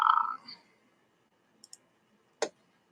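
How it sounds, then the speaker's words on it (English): Computer mouse clicks, a quick double click followed by a single sharper click, close and crisp in a quiet room after a brief murmur at the start. "The mouse clicking is so loud."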